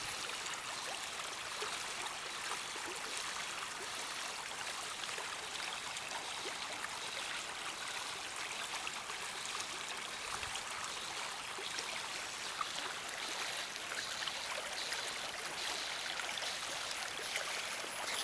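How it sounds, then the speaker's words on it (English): A Tennessee creek near Hohenwald flowing steadily, a soft, even rush and trickle of water heard close and alone, with no voices. "A beautiful Tennessee creek. Nothing like the soft sound of water."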